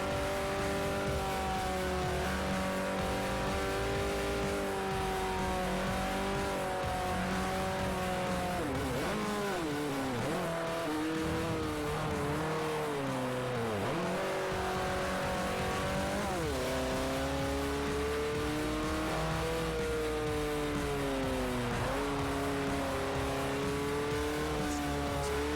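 A race car engine in Forza Motorsport 4 howls continuously, rising and falling through gear shifts with sharp dips under braking and climbs back up. Music plays quietly under the steady, loud engine.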